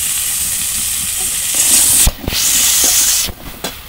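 Cut pumpkin and potato hit hot oil in a pan in a Bengali village kitchen, and a loud, steady sizzling hiss rises and holds with a few brief dips and clatters.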